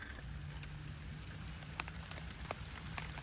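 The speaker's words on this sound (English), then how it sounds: "And it's raining." Steady rain falls across a garden, a soft continuous hiss with scattered louder drops tapping on nearby surfaces, faint and even throughout.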